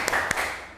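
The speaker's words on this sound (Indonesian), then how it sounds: "Tepuk semangat." Two quick, sharp hand claps from a classroom group doing a spirit-clap cheer, brief and close against faint room noise.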